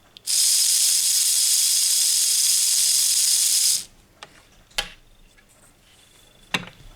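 A cleaned Fleischmann H0 scale model train motor runs with a loud, steady high-pitched whir for about three and a half seconds, then stops, followed by a few sharp clicks and taps.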